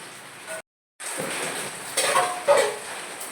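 Kerala-style chicken thoran being stirred in a pan over low heat gives soft, close scraping and light sizzling that stops briefly and then returns, with louder stirring strokes near the end.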